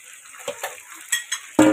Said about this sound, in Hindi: अब इसमें हम लोग चिकन ऐड करेंगे।